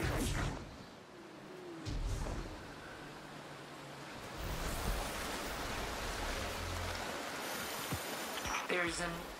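A waterfall in the Destiny 2 video game gives off a steady broadband rush of falling water. It sits at a moderate level throughout, with a few brief in-game sounds scattered over it.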